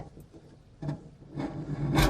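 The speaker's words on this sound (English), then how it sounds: "You just get a scraper or something. Just get in that groove there and clean it out." A scraper works around the groove of a leaky kitchen sink flange, making a few short, close scraping rubs that grow louder toward the end.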